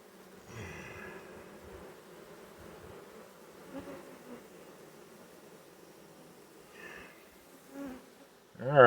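Honeybees flying in and out at a hive entrance bringing in pollen, a faint continuous buzzing hum with a few louder passes close by and a brief rustle at the end.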